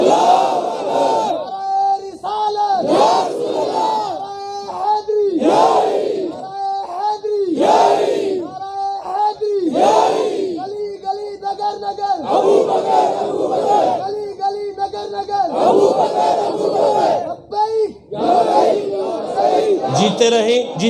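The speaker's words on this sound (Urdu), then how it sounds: "نعرہ تکبیر، نعرہ رسالت، نعرہ حیدری" Crowd at an annual Urs gathering shouting religious slogans in unison: loud call-and-response bursts of massed voices about every one to two seconds, with a leader's call followed by a roaring group reply, close and sustained.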